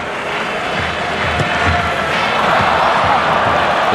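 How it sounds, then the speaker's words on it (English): A large stadium crowd at a night rugby match between France and the All Blacks in Marseille, a loud, sustained roar and murmur swelling as a kick goes wide. "The crowd groans."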